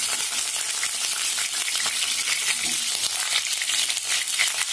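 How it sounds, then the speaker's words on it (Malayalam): Seven brinjals (eggplants) frying in hot oil for a brinjal tamarind curry: a steady, close crackling sizzle that holds even and unbroken throughout, with no talking. "ഈ എണ്ണയിൽ നന്നായിട്ട് ഫ്രൈ ചെയ്തെടുക്കണം"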